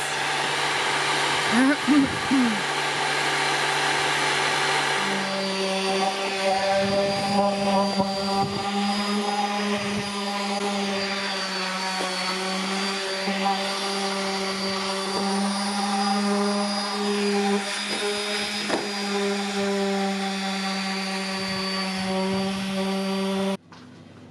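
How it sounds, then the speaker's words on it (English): A VEVOR benchtop surface planer planing pallet wood: a few seconds of quieter rattling, then the motor kicks in with a loud, steady, high whining hum that runs almost unbroken before cutting off abruptly at the end. "The main reason I wanted this surface planer was to clean up all this pallet wood."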